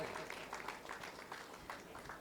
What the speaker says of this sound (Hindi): इन बच्चों को तो तालियां जोरदार बजाते रहिए